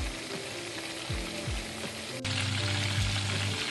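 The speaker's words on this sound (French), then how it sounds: "Là c'est en train de mijoter." Chicken pieces sizzle and fry steadily in olive and sunflower oil in a pan, with occasional stirring scrapes and a louder burst of crackling partway through; no voices.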